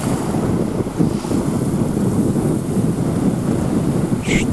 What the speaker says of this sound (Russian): Волны Финского залива.